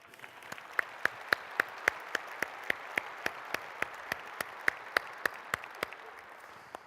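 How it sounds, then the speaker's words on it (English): Applause at a conference opening session, a steady run of evenly spaced sharp claps over a soft wash of crowd clapping, moderately distant and sustained for several seconds. "Don and his team do deserve a big round of applause"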